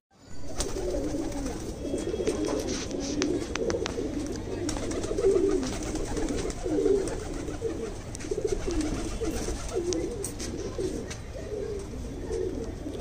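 Several madrasi pigeons coo continuously nearby in a loft during night training, their soft throaty calls overlapping in a low rolling chorus.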